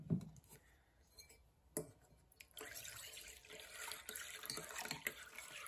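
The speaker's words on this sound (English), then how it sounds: "cool tap water." Cool tap water runs from a faucet in a kitchen during cheesemaking, a soft continuous splashing that builds after a few light clinks of glass or dishes, quiet and close.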